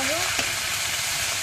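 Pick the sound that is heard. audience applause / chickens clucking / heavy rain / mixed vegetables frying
mixed vegetables frying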